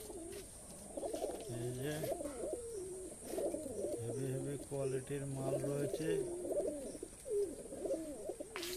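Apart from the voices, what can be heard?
pigeons cooing, various fancy pigeon breeds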